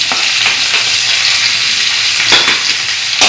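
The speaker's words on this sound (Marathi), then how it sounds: "आता मिरची टाकते, कांदा आणि लसूण कढी टाकते." Green chilies, onion and garlic fry loudly in a hot pan for jhunka, a close, continuous hissing sizzle with a few sharper crackles and stirring scrapes, no voices.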